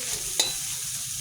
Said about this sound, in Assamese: নিমখ দি এতিয়া অলপ সময় এনেকৈ লৰাই